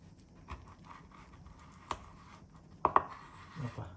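A sharp knife slicing homemade sushi on a cutting board, a few sparse soft taps and thuds, quiet and close, with a couple of clearer cuts near the end.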